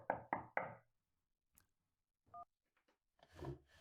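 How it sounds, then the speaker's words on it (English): Three sharp knocks land on a door, followed after a pause by a faint tap and a short electronic doorbell-like tone, then a burst of muffled bustle near the end. "He's ringing the door? Interesting."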